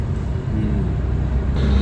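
Steady road traffic on a busy Indian highway during a long-distance road trip, a continuous low engine rumble and tyre roar from cars, buses and trucks, close and fairly loud throughout with no talk.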